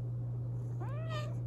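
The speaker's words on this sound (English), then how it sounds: "Let's see if he does a little meow." A single short cat meow, fairly soft and close, over a steady low electrical hum.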